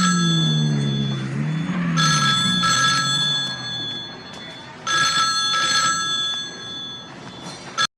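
A telephone bell rings in loud, repeated bursts of a bright metallic trill, separated by short pauses. People's voices and background noise sit underneath.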